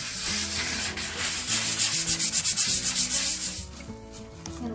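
Hand sanding of dried spackling with fine 600 grit sandpaper: a steady scratchy rubbing with a clear back-and-forth stroke rhythm, close and fairly loud, with no voices.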